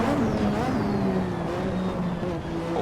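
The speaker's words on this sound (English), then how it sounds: "You hear the turbo spool up." A Lotus 98T Formula One car in Assetto Corsa, on qualifying tyres and turbo boost, screams along with a steady high engine note while the turbo whistles and spools up, rising glides sweeping over the roar.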